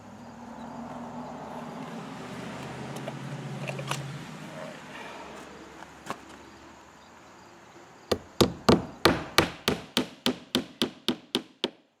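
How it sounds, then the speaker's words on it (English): Nails are hammered into wall studs while vinyl siding is installed on a barn workshop addition: after some quiet rustling, about a dozen sharp, evenly spaced hammer blows ring out close and loud. "I like to get the nails into the studs."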